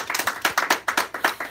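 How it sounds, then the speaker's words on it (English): Clapping at a live class, a handful of distinct hand claps in a quick, slightly uneven rhythm, close and fairly light rather than a full crowd. "Here is, please, another applause for Shank Lahir."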